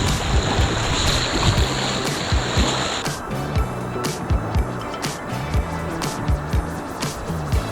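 A kayak paddles across an eddy line in moving river water, with steady rushing water and wind and a regular series of dull paddle strokes and knocks close by.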